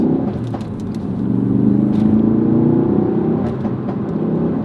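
A Ford Focus RS pulls hard out of a corner from second gear, its engine note climbing steadily in a loud, close, continuous roar with a rising rev pitch and no talking.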